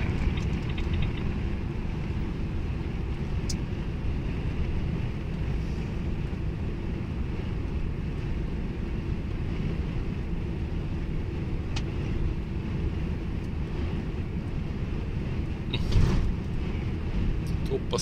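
Steady low road drone inside a car driving on a dark road while another vehicle overtakes, constant and even throughout with a brief louder swell near the end.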